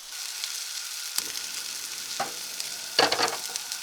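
Steak sizzling in a pan at a winter truck campsite, a steady close hiss of frying with a few brief bursts of louder spattering and scraping, no talk.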